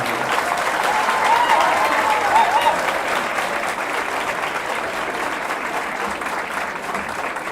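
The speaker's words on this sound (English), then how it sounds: "Once again, thanks for the clap." Sustained applause from an audience at a medical college graduation ceremony, a steady dense wash of clapping that holds evenly for several seconds with no pauses.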